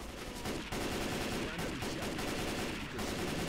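Rapid automatic gunfire from an M4 rifle in the Left 4 Dead 2 video game rattles almost nonstop, loud and close, in a dense stream of shots with brief gaps.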